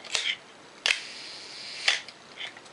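A Pentax K film camera trips its shutter at one full second, giving a sharp opening clack, a sustained mechanical whir, then a closing clack about a second later, heard up close and alone.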